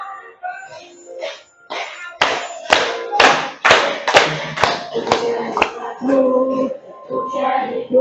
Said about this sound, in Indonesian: tepuk jari keempat, tepuk jari lima, berbunyi semua